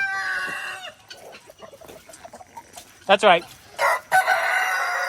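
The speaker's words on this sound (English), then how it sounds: "Don't you crow at me." A rooster crows once, loud and close, midway through an outdoor farmyard scene, with clucking fowl around it and someone talking before and after.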